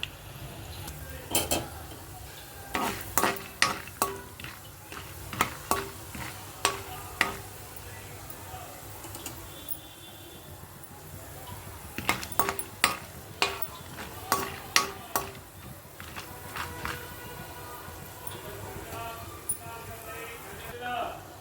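Cumin seeds and chana dal fry in oil for a potato fry, with a soft sizzle and a series of spoon clinks and scrapes against the pan as a person talks.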